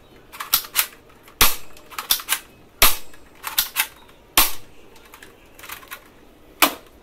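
Sharp snapping cracks from a toy gun firing, irregular bursts of single and paired pops with small clicks between them, close and fairly loud, with no speech.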